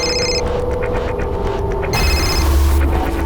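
A telephone rings loudly and close by in a repeating electronic trill over a steady hum, and the ringing stops as the call is picked up.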